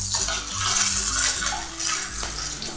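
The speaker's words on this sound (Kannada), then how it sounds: "ಇನ್ನು ಅರ್ಧ ಈರುಳ್ಳಿ ಒಗ್ಗರಣೆಗೆ ಹಾಕ್ತಾ ಇದ್ದೀನಿ." Half an onion dropped into hot oil for tempering in a pan while making black-eyed bean and jackfruit seed sambar, giving a broad steady hiss with a few clinks of utensils, close and fairly loud, no talking.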